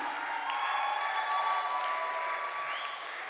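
Audience applause in a church at a Christmas choir concert: dense, steady clapping with a few cheers mixed in, continuing at an even level throughout.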